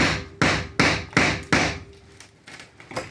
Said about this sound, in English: trying to drive a chisel in here underneath the jamb